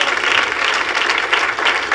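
A church congregation applauding during a sermon, a dense, continuous wash of clapping from many hands, loud and close throughout.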